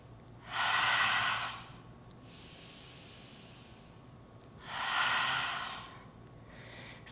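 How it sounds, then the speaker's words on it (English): Two strong, breathy exhales with the tongue out, as in a yoga lion's breath, each about a second long and several seconds apart, close and forceful over a quiet room. "Take a lion's breath in, tongue out, exhale"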